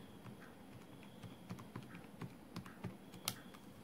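Calculator keys pressed one after another, a steady series of small faint taps, close, over a low background hiss with no talk.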